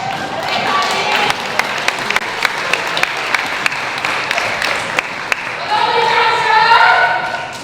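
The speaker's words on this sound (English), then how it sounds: "Big round of applause again for Kylie" A room of wedding guests claps after a toast, with loud, close individual claps standing out over the crowd's applause, which swells near the end as voices join in.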